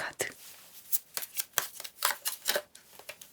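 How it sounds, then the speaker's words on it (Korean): Tarot cards being drawn and handled at close range: a quick run of crisp, papery flicks and snaps, bunched in rapid bursts over a few seconds. "카드를 2장 뽑아볼게요."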